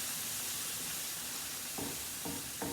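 Sauce simmering in a pan while it lifts the browned bits from the bottom: a faint, steady sizzling hiss with a few soft bubbling pops near the end.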